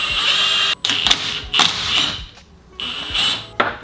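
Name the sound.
17mm tool removing motor mount bolts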